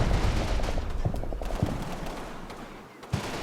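Infantry gunfire in the war game Combat Mission, a continuous crackle of rifle and machine-gun fire with several louder individual shots, loud and close throughout.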